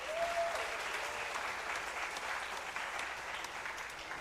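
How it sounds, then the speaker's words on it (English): Crowd applause for sponsors at a Pan Trinbago South/Central steelband festival preliminaries, a broad sustained clapping from a large audience heard at moderate distance, with a brief tonal whistle near the start. "give the sponsors a round of applause"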